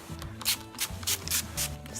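Hairspray misted onto hair in short bursts, four or five quick hissing sprays close to the microphone over a low background hum, with no talking.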